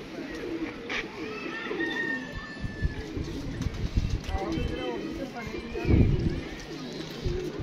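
Low pigeon coos rise and fall close by, with shuffling and faint chatter in the background.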